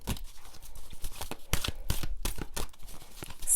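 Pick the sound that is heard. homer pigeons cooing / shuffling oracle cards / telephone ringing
shuffling oracle cards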